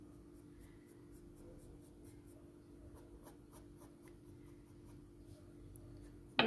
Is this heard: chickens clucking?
no